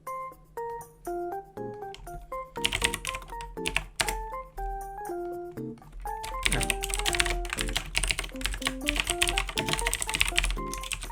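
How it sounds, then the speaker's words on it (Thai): Close-up typing on a computer keyboard while entering a Python command, quick irregular key clicks that grow denser and faster in the second half, with musical tones playing underneath. "สมมุติว่าผมพิมพ์คำสั่งนี้ลงไปนะครับ"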